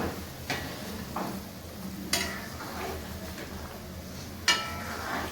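Rasgulla sweets stirred in hot sugar syrup in a pan, a gentle bubbling simmer broken by a few sharp clinks of a utensil against the pan, close and moderate in level, no talking.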